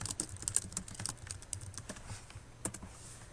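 Typing on a computer keyboard, with quick irregular clicks of individual keys that come in bursts and short pauses, close and fairly quiet.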